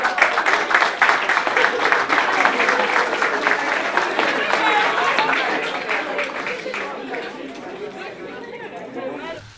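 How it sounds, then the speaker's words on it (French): An audience at a borough council meeting applauds together, a dense, loud patter of clapping mixed with crowd chatter that slowly thins and fades toward the end. "Alors, on s'applaudit tous."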